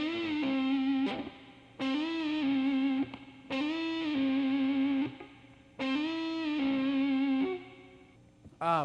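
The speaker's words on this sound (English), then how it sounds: "I'll do a hammer on, then bend it, and then pull it off." Overdriven electric guitar repeats a short lead figure four times: a hammered-on note, a rising string bend, then a pull-off, each phrase crisp and close with short pauses between.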